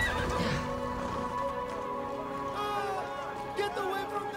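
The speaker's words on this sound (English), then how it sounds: "That looks like a good place for a horse to take shelter." A horse in the video game Assassin's Creed Odyssey neighs loudly at the start with a drawn-out whinny, then shorter snorts and soft hoof clops follow over quiet game ambience.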